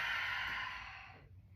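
A single soft exhale during a yoga forward fold, breathy and close, strongest at the start and slowly fading into near silence.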